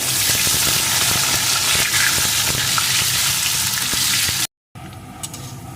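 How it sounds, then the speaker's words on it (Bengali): Cut potato pieces frying in hot oil with browned whole spices for a cabbage dish: a loud, dense, continuous sizzle with faint stirring ticks, breaking off briefly before a quieter stretch of frying. "একটা টুকরো করে কেটে রাখা আলু এটাও লাল লাল করে ভেজে নেব"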